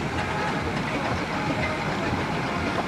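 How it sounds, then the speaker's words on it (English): A small steam traction engine converted from a road roller chuffs and rumbles nearby as a steady, dense mechanical roar with no clear pauses. "Nice little engine, originally built as a road roller and then converted to this tractor form"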